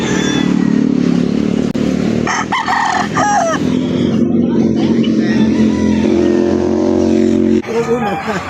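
Roosters crowing and chickens clucking at a busy livestock market in Victoria, Laguna, amid crowd chatter and passing motorcycle and car traffic.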